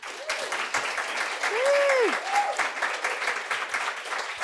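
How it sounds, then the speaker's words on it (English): Applause from a room audience cheering runners of the London Marathon, a steady dense patter throughout, with a brief voice rising over it midway. "So a big round of applause for all of you."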